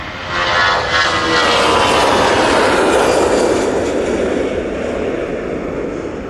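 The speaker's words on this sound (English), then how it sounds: "Very nice departure." A passenger airliner takes off at Manchester Airport, its engines building to a loud, steady roar that holds broad and powerful for several seconds before easing slightly as it climbs away.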